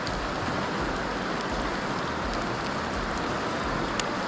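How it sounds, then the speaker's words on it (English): Heavy rain pours onto a river during steelhead drift fishing at twilight, a dense, loud, continuous hiss with no voices. "This rain is just ridiculous today."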